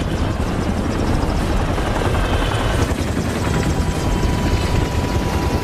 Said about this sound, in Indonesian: beberapa helikopter mendarat di luar rencana mereka